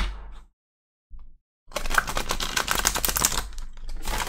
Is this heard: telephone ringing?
no